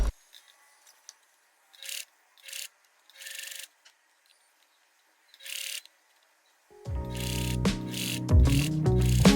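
A sewing machine stitching a hem on a boatneck top, heard in short separate bursts of whirring before a longer, louder run near the end, with quiet gaps between.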